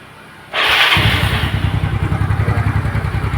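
A Yamaha Mio Soul carburetor scooter's electric starter cranks after a click, giving a loud, close, rapid rhythmic chugging that keeps going without the engine catching.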